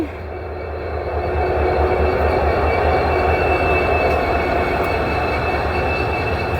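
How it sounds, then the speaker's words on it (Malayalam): A freight train rolls past nearby in a loud, continuous rumble, with faint metallic wheel squeal riding over the clatter. "ദേ ട്രെയിൻ ദേ നമ്മുടെ വാതിക്കൽ ഇപ്പം ട്രെയിൻ"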